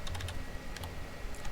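Fingers type on a computer keyboard while entering a database record in Microsoft Access, clusters of close, quick key clicks in short bursts over a steady low room hum, with no voice.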